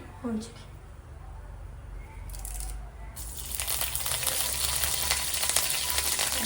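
Mustard seeds and curry leaves spluttering in hot oil, a dense crackling sizzle that bursts in loudly partway through after quieter pan noise; someone talks over the cooking.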